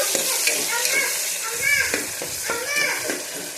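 Tomato pieces, cut large, drop into a hot frying pan for Kannada-style palak pulao, raising a steady close sizzle with stirring scrapes, while a voice chatters in the background.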